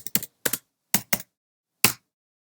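A command typed into a computer terminal on a keyboard produces six crisp, close key clacks in an uneven rhythm, with clear silent gaps between presses.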